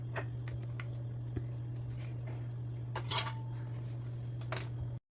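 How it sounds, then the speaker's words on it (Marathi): Leftover idlis being cut into pieces with a utensil in a kitchen, heard as faint scattered clinks and scrapes against a plate, with two brighter metallic taps, over a steady low hum. "असे तुकडे सगळ्या इडल्यांचे मी करून घेतले"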